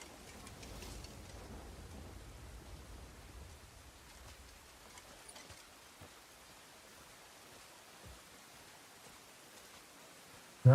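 Steady rain hisses through a video game rainstorm, with a few low rumbles of thunder rolling underneath and a sharp burst right at the end.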